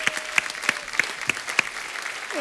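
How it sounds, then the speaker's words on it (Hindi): Studio audience applause on a Hindi comedy show, sustained clapping from a crowd with a few sharper, louder claps standing out in a loose rhythm, fairly close and with no talking over it. "जोरदार तालियां हमारे भालू के लिए।"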